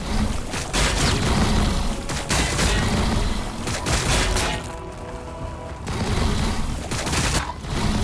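Dense bursts of gunfire and explosions from battles in the Warhammer 40,000: Battlesector strategy game, loud and continuous with rolling booms and crackling volleys, easing briefly midway before surging again.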